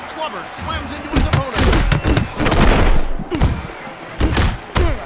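Heavy punches land in the Creed: Rise to Glory VR boxing game, a rapid run of loud thuds and slams in clusters, mixed with an excited commentator's voice.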